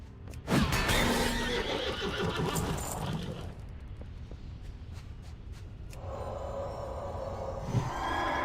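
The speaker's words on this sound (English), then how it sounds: "There's that horse again." A horse in World of Warcraft lets out a loud, close whinny, followed by snorting and hoof sounds amid game ambience, with a second brief neigh near the end.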